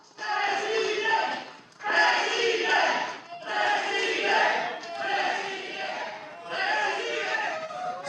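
A large crowd at the Nasdem Party declaration of Anies Baswedan as 2024 presidential candidate cheers and shouts in loud repeated bursts, rising and pausing in a steady rhythm.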